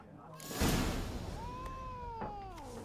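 A cat in The Witcher 3 lets out a drawn-out, rising and falling meow, fairly close, over game background ambience with a brief whoosh at the start.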